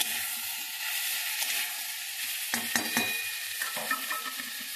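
Food sautés in a pan with a constant hiss of frying, broken by several sharp spatula scrapes and knocks in the second half, close and unaccompanied by talk.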